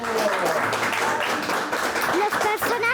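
Clapping rises at the close of a told story, mixed with lively voices and tonal sounds that weave over the steady applause.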